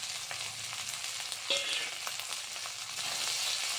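Banana stem sizzling in a pan while being stirred, an even hiss of frying with soft scraping as a utensil moves the pieces around, close and steady with no talk.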